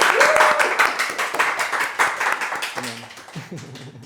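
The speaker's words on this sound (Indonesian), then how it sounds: "saya pengen kita berikan aplaus yang meriah buat Kang Adit" Indonesian interview audience applauding for entrepreneur Kang Adit, a burst of clapping that is strongest at first and then gradually thins out while voices begin to talk over it.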